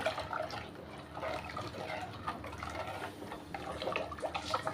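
Water is poured into coconut milk in a cooking pot for coconut milk rice, a soft, steady trickle and splash that stays quiet throughout.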